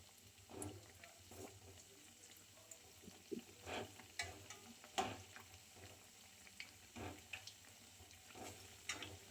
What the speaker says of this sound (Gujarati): આ રીતે આપણે બધા પકોડાને તળી લેવાના.